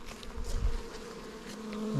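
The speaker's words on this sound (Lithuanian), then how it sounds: "Bitės ateina." Honeybees buzz close by as they gather at a spring feeding spot with liquid feed under paper, a dense continuous drone with individual bees swelling louder as they pass.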